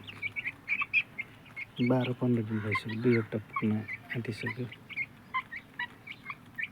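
Broiler and Giriraj chicks, about two weeks old, chirp in quick high peeps throughout while someone talks over them at close range.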